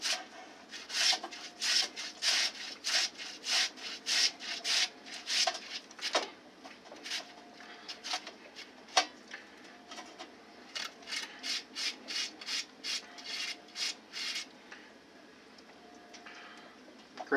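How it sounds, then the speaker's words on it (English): A potato is grated by hand on a grater for German potato pancakes, giving a steady series of short rasping strokes in a quick rhythm. The scraping is close and fairly soft, with a brief pause partway through. "you can see how the grater is doing with the potato"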